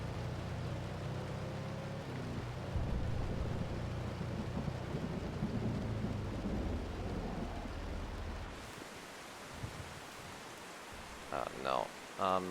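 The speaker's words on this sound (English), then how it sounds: "I drove more into the rain" Heavy rain and rumbling thunder from a storm in the storm-chasing video game OUTBRK form a loud, steady wash for most of the stretch, then drop away to quieter rain with a few short bursts near the end.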